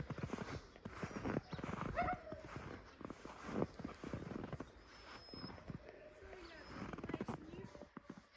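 Draft horses in Ukraine clop their hooves in a brisk, irregular rhythm at moderate distance, with people talking in the background.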